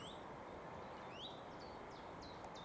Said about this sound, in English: the old garden warbler is pretty prevalent today, and a chiff-chaff as well.